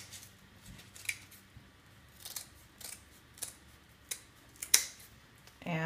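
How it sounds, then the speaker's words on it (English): Scissors snip through strips of plaster in a quiet room: about eight crisp, separate cuts spaced unevenly over several seconds, close and clear, with a brief rustle at the end. "we purchased strips of plaster that look like this, and you simply cut the strips for students to use."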